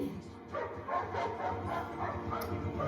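Dog barking repeatedly in a television scene, a series of moderately loud woofs and yips with some whimpering, mixed with other soundtrack noise and occasional voices.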